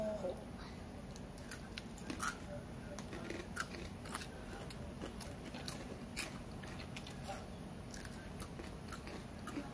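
Repeated crisp crunches from biting into fried potato, close up, in irregular bites over steady background noise.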